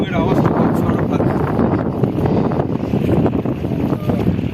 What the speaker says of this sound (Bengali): এবার তোমরা হয়তো ঢেউয়ের আওয়াজটা পাচ্ছ আরো ভালো